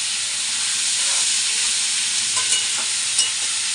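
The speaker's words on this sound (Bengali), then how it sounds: "ওই যে এখন বসিয়ে দিলাম নিরামিষ এঁচড়ের তরকারি।" Vegetarian green jackfruit curry cooks in a pan, with pre-fried potato added, giving a loud, steady close sizzle and hiss with a few faint stirring scrapes.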